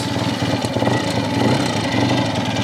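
A BSA motorcycle engine runs steadily and close by with a dense, buzzing drone as it is clicked up through first to fourth gear, the tone holding loud and constant without talk.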